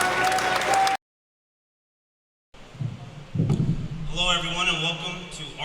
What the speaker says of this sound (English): So give David a round of applause.